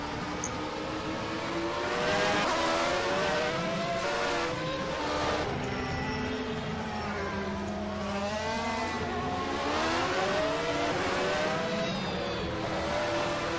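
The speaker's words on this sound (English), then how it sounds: "I'll leave you with the engine noise." Onboard engine of a turbocharged race car in a racing video game at the Brazilian GP, its note rising and falling steadily through gear changes and throttle lifts, loud and continuous with no talk.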